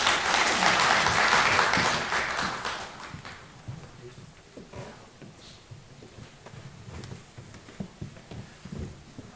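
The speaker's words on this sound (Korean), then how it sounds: "박수로 맞이해 주시기 바랍니다." Audience applause welcomes a speaker at a construction management conference, a loud burst of clapping that fades after a few seconds into scattered claps, footsteps and room noise.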